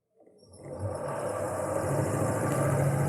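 A DC motor coupled to a three-phase synchronous generator spins up toward its rated 220 V, starting from silence and building quickly into a steady mechanical whir and hum that holds for a few seconds, with no talk.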